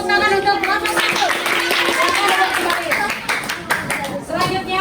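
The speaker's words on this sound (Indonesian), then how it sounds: "Tepuk tangan untuk kelompok 1" Clapping from a fifth-grade Islamic education class group, busy hand claps mixed with children's voices chanting and talking loudly throughout.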